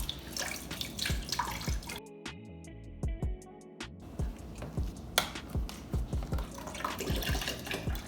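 Vegetable stock poured into a soup pot while cooking a Spanish-style vegetarian vegetable soup, a continuous liquid pour and splash that runs steadily with short pauses and a few clinks, fairly close, no talking.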